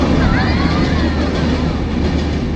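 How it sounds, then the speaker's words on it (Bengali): A train rolls past at close range, a steady loud rumble of wheels on rails with faint squealing, while a preacher's voice talks over it during an Islamic sermon. "কথার ফাঁকে ট্রেন আসছে"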